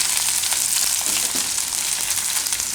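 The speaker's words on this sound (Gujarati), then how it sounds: "હવે એમાં આપણે મરચાં નાખી દેવું મરચાંને આપણે થોડીક વાર આ રીતે પકાવી લેવું" Green chilies fry with carrots in a pan for a Gujarati carrot-chili methiya sambharo, giving a steady, close, hissing sizzle that fills the whole moment without any talk.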